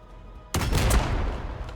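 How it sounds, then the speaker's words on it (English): A single loud cannon shot in the Warhammer 40,000 strategy game, a sudden booming blast that rings out and decays over a quiet background. "Missed with the cannon shot."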